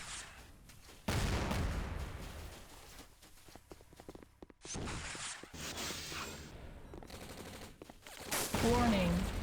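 Artillery fire from Nod artillery units in the video game C&C Renegade: loud bursts of shelling and gunfire come in waves and sudden blasts, with chaotic battle noise throughout and a voice briefly heard.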